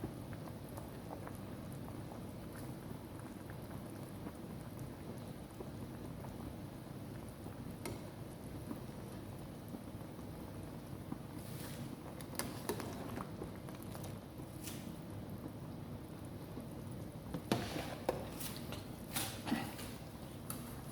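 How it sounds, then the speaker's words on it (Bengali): Water with chicken in a pot boils at a rolling bubble, giving a soft, steady patter and burble that continues for a long stretch, with a few brighter clinks and splashes near the end, and no speech. "তারপরে দেখতেছেন পানিটা বইল হয়ে গেছে"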